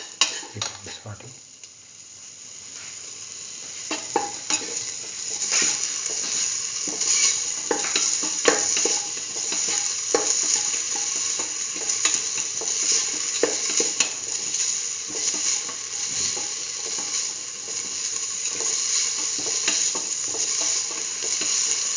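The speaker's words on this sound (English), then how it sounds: "Keep on sauteing." Chayote and green peas sauteing in a pan with salt, a steady loud sizzle with repeated scraping and clinking of a utensil stirring against the pan, close up and without speech.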